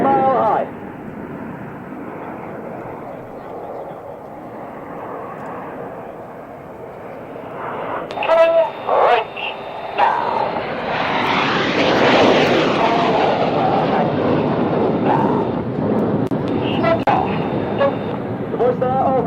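A fixed-wing aircraft in a display team flies overhead at an air display, a distant engine drone that swells into a loud, sustained roar, with a commentator talking over it.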